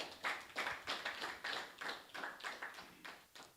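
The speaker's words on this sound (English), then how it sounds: "A round of applause, please." Applause at an arts seminar welcoming a guest speaker, a rhythmic run of distinct claps at a steady beat, fairly faint and distant across the room.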